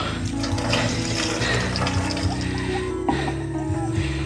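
Water runs from a tap as it is fetched into a container, a steady splashing flow close by with a continuous low hum and faint mechanical clatter underneath.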